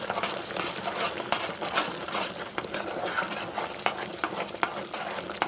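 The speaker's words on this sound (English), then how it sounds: "Then you dump a big cup of peanuts in it." A big cup of peanuts is poured into hot cooking syrup for peanut brittle, making a steady rattling, stirring crackle with sharp little ticks throughout, close up under a low background hum.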